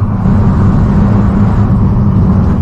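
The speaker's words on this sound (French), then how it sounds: "j'adore le bruit de cette voiture" A Nissan GT-R sports car driving on a road, its engine producing a loud, steady, dense roar that stays close and continuous throughout.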